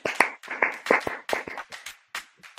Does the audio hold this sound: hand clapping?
yes